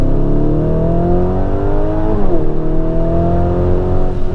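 A classic car engine revving close and loud: the pitch climbs steadily, dips briefly, then rises again in a sustained, throaty whine.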